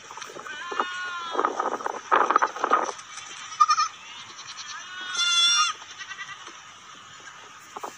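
A goat suffering from urinary retention bleats repeatedly in wavering, nasal calls, several close bursts spread across the stretch with quieter gaps, while a faint steady hiss runs underneath.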